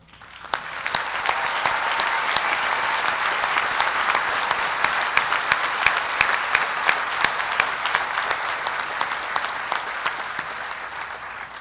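Full, sustained audience applause at a college commencement ceremony, a thick roar of many hands rising quickly and holding strong for several seconds with scattered sharper claps standing out.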